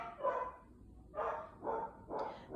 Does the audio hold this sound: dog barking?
yes